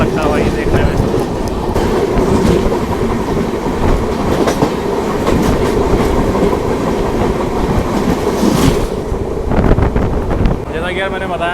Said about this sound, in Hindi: अब दोनों ट्रेन धीरे धीरे करके निकल रही हैं।